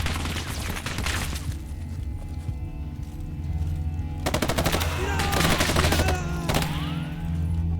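Rapid machine gun bursts rattle among other gunfire in a World War II Eastern Front battle in Gates of Hell: Ostfront, with Soviet infantry fighting; the sharp volleys grow denser in the second half under steady battlefield ambience.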